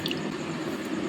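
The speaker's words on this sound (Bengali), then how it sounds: "আর আলু মাখবো" Mashed potato being worked by hand with chopped onion and coriander for phuchka filling, a soft, continuous wet squishing with no breaks across the whole second.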